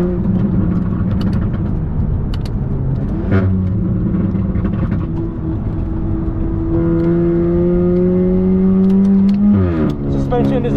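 A Volkswagen MK8 GTI, front-wheel drive, lapping a race track: a loud steady engine drone with rising gear-change tones and a sharp shift near the end, accompanied by someone talking.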